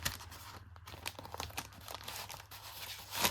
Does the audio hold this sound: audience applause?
no